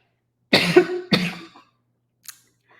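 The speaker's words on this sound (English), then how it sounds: "I have a little cough the past couple of days" Two sharp coughs in quick succession, close and fairly loud, followed by a faint small noise after a pause.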